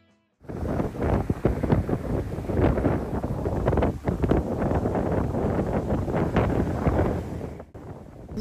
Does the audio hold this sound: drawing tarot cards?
no